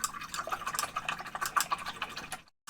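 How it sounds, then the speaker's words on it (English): Paint brushes swirled in soapy water give close, irregular little splashes and drips in quick bursts, fairly quiet and alone, ending abruptly. "I am going to swirl them around in my soapy water."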